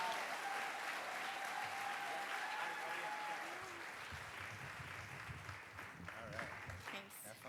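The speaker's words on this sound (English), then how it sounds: "Let's give a round of applause for Courtney Bellanti" Audience applause greets a storyteller taking the stage, a broad wash of clapping that swells then thins out, with a few voices and cheers near the end.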